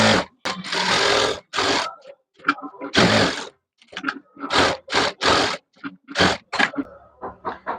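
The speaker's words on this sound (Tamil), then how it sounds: "இந்த லைனிங் கிளாத்த சுத்தி நம்ம தையல் போட்டு எடுத்துக்கலாம்" A sewing machine runs in repeated bursts while stitching around the lining cloth of a blouse with a butterfly back-neck design, with short pauses between runs and a few light scrapes and taps.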